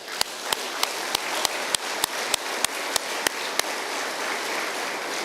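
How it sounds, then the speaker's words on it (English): Applause at a law enforcement academy graduation honoring the honor guard, a dense wash of clapping with sharp regular taps standing out over the first few seconds before settling into steady even clapping. "Please give that honor guard a round of applause."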